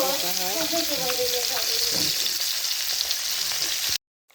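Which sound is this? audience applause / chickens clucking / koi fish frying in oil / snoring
koi fish frying in oil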